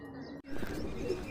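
Pigeons cooing and calling from a rooftop loft in Amritsar, a soft close murmur of coos running continuously after a brief gap.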